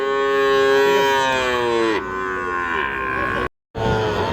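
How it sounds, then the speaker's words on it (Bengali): Cattle lowing at a Bangladeshi cattle market where Shahiwal-breed bulls are sold, with long loud moos, one after another, sliding in pitch, then a brief gap of silence before more sound resumes. "এই যে এখানে একটু বড় সাইজের গরু দেখতেছি আমরা।"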